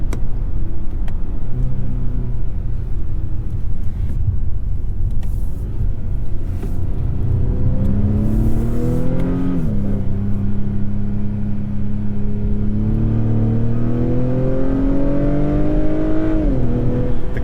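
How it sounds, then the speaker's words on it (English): A 2021 Acura TLX with a 2-liter turbo in sport mode, engine droning and rising in pitch under acceleration, with a distinct drop and rise as the paddle shifters downshift approaching a roundabout, heard steadily from inside the cabin. "I'm actually going to manual shift with the paddle shifters down into this roundabout."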